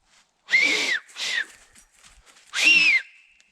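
Three shrill whistle blasts, the first two close together and the last after a pause, each with a slight pitch bend, alone without speech.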